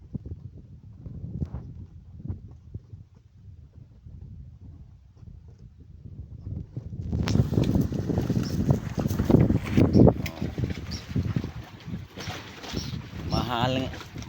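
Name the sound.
strong wind at sea on a boat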